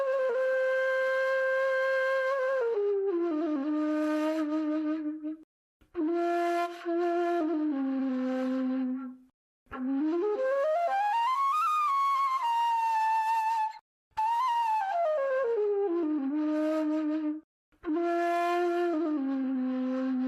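A ney, the end-blown reed flute, plays several long breathy phrases alone, with sustained notes and sliding pitch bends separated by short pauses.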